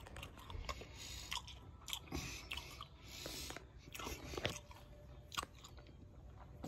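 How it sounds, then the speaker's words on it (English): Cold raw mushrooms being chewed up close, with repeated crisp bites and wet crunching in a steady rhythm, faint and alone. "I can't stop eating these cold raw mushrooms."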